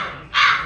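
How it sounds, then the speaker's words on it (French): A single harsh crow caw, loud and close, rising abruptly midway and holding briefly before fading, with no speech. "Le corbeau."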